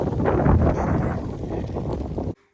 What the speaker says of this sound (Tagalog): Sobrang mahangin doon sa labas.